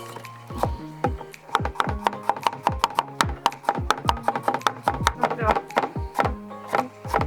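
A knife finely chopping carrot on a board: quick, close, sharp knocks in an uneven but steady rhythm, coming in dense runs with brief pauses.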